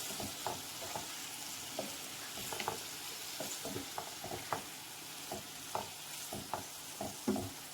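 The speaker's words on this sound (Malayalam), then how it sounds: "വേവിച്ച് വെച്ച കൂർക്ക നല്ലപോലെ ഇളക്കി കൊടുക്കാം." Boiled Chinese potatoes (koorka) are stirred into a bajji-chilli masala in a pan. Quiet, irregular scrapes and knocks of the spoon sit over a faint, continuous sizzle.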